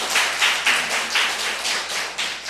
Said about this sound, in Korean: 박수 한번 보내줘봐.